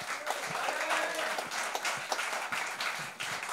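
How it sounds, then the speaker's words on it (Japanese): A crowd at a beatbox battle final applauds the two competitors, steady applause with scattered louder claps and a few cheers, some voices mixed in. "まずは2人に大きな拍手。"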